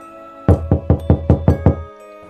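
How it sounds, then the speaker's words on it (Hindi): Knocking on a house door: seven firm, evenly spaced raps, close and loud, ringing briefly after each hit, then silence. "दरवाज़ा खटखटाता है।"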